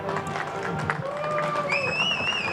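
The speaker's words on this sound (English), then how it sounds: "Round of applause for our other host, Jeff." Studio audience cheering and applauding for a show's co-host, a steady crowd roar and clapping with whoops, continuous and fairly loud throughout.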